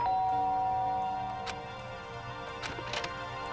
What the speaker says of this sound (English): There's a doorbell next to the door.